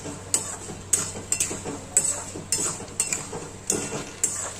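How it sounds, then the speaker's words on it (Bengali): Mung dal dry-frying in a pan is stirred continuously, with regular scraping and clinking strokes of a metal spoon against the pan roughly every half second over a faint low sizzle. "ডালটা আমার ভাজা চলছে, আপনারাও সময় দিয়ে একটুখানি ভাজবেন।"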